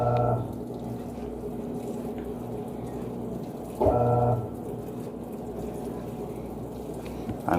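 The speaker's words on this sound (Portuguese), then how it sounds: "Fez enxágue com jato d'água." A Panasonic 14 kg washing machine rinses dark clothes with a water jet, giving a steady loud rush of spraying, pouring water. Brief tonal beeps or machine sounds come in twice, and no one talks.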